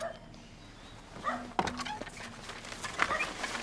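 A young dog in a village yips and whimpers from a moderate distance, with a few short barks and a dull thunk over a quiet outdoor background.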